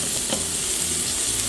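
Cooked rice with cilantro tossed in a hot pan, giving a short, steady, close sizzle with faint scraping from the stirring, no voices.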